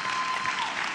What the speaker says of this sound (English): May I invite at this time a general and rousing applause for these graduates.